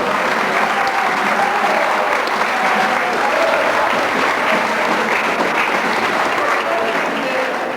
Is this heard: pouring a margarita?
no